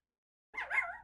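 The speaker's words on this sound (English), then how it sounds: "Oh my god, dogs." A dog gives one brief, faint yip or bark that rises and trails off, heard alone after a moment of silence.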